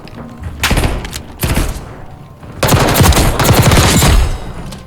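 Rapid automatic gunfire in Black Ops 6 played on a PS5 Pro, Xbox or PC with a SCUF controller comes in loud, dense bursts of overlapping shots and thumps, with a brief lull between volleys.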